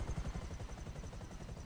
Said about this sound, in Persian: دریفت کشیدم هلیکوپتر